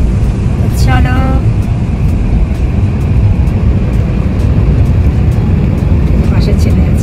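A car driving along a road toward Durgapur, heard from inside as a steady, loud low rumble of engine and tyre noise with a brief higher chirp early on.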